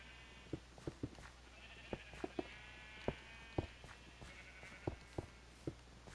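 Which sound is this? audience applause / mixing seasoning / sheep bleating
sheep bleating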